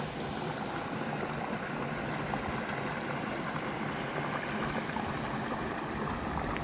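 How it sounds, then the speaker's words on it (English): The River Dent in the Yorkshire Dales flows in a steady, continuous rushing wash at a constant level, heard close and alone without talk. "And just crossing the river."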